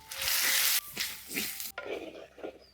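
A spice paste of onion, ginger, garlic and chili with tomato, salt and turmeric fries in oil, a loud close sizzle that breaks into uneven stirring bursts and crackles partway through.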